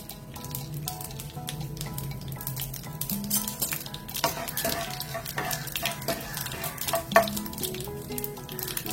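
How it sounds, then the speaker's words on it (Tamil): Mustard seeds that have already popped and fenugreek seeds fry in about four spoons of hot sesame oil for green chilli mandi, giving a close, steady sizzle with scattered crackles and light stirring scrapes throughout and no talking. "கடுகு வெடிச்சிருச்சு, வெந்தயத்தை போடுவோம்."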